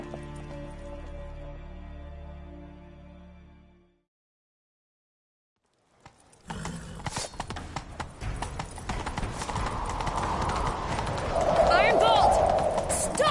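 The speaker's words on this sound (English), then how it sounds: "Grab a horse, we'll chase him down." A horse galloping in The Witcher 3: Wild Hunt. After a stretch of game sound and a brief silence, rapid hoofbeats pound steadily and loudly, rising toward the end with other game noise underneath.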